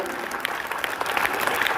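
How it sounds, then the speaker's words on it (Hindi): An audience at a school award ceremony for the best student of the month claps steadily, a brief burst of dense, indoor applause with no voices over it. "एक जोरदार ताली लगाइए।"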